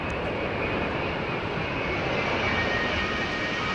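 A Boeing 787 Dreamliner jet at Heathrow gives off a continuous broadband engine rush, moderately distant and even in level throughout.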